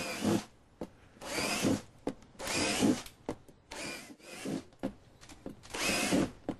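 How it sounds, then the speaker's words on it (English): A power drill with a 3/8 inch bit bores holes in a plastic container, five or six loud whining bursts separated by brief pauses, close up with no talk. "I'm using a 3/8 inch drill bit to make these drill holes."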